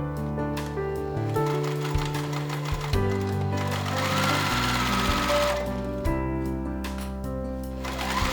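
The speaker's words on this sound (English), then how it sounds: "Now we can sew the bottom." Sewing machine stitching along the bottom seam of a fabric tote bag, a loud, close, continuous motor whir with rapid needle clatter that shifts in pitch as the speed changes, with no voices.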